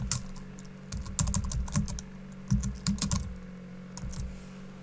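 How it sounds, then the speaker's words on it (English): Fingers tapping out text on a computer keyboard in steady close bursts of clicks with short pauses between them, over a faint constant hum, no voices. "So we highlight the text and we type."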